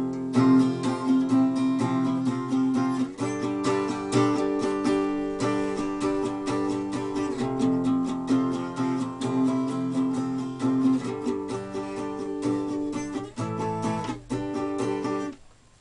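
Acoustic guitar plays a riff from the beginning, a close, steady run of picked notes and chords that repeats in phrases for about fifteen seconds, with no talking.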